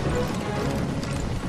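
Horses gallop in the Wild West game Call of Juarez: Bound in Blood, a steady loud clatter of hooves running for a moment.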